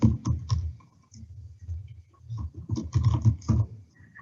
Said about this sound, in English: I first press the Windows key and then type the words mouse size